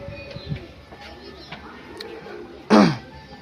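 Pigeons kept in a loft, a few soft low coos nearby under light background noise, ending in one louder, harsher burst.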